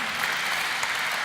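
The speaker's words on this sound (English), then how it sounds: "Big round of applause for V-Bionic." Steady applause from the audience at a startup contest final, a dense, even wash of clapping heard alone for a short moment.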